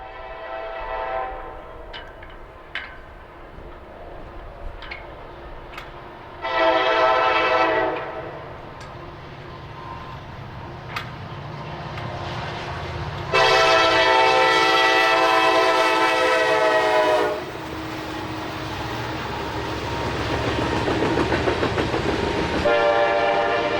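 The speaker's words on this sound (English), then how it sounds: "Loaded grain train 40V, with two of NS's unique SD60Es for power, rolls east through town." A loaded grain freight train, led by two NS SD60E diesel locomotives, rumbles east past with clattering wheels while the horn blasts several times, short then long, loud and close.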